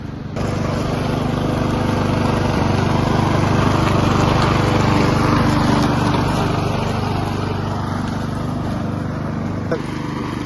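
A grass cutting machine runs steadily through overgrown grass, a loud continuous engine drone with a buzzing high whine, close and unbroken for the full length.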